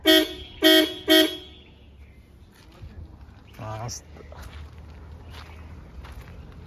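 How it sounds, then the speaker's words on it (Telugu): Three loud, short car horn beeps in quick succession from old horns just refitted with new wiring, followed by a quieter stretch of faint background noise. "హారన్ అయితే బాగానే వస్తుంది"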